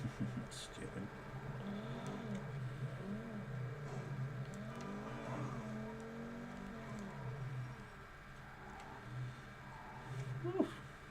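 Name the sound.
supercar engine revving in the video game GTA Online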